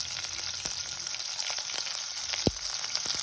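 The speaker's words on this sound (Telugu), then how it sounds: "కొద్దిగా మినపప్పు వేసుకొని ఫ్రై చేసుకోవాలి." Urad dal, green chili and ginger garlic paste frying in hot oil, a steady close sizzle with a few sharp pops and crackles, no talking.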